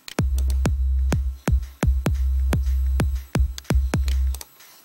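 A rapid kick drum pattern programmed in FL Studio for a drop, with about fourteen punchy, boomy hits in uneven bursts, some clustered closely together, under a sustained deep low tone; loud and upfront, no talking.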